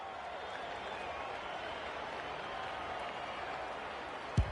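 An AFL football crowd at a Richmond versus West Coast match roars and applauds in a steady, distant wash of cheering that holds throughout, with a brief bump near the end.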